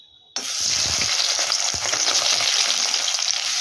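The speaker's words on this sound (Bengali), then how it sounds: "প্রথমেই আমরা সয়াবিনগুলোকে একটু ভেজে নেব" Soybean chunks drop into hot oil in a wok and burst into a loud, steady sizzle that starts abruptly and carries on unbroken, with a few low thuds from the pan near the start.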